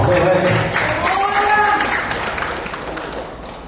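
A church congregation clapping hands in praise during a worship service: a sustained patter of many hands beneath voices and sung tones, loud at first and gradually easing.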